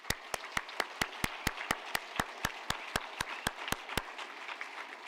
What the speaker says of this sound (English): So a round of applause for the international students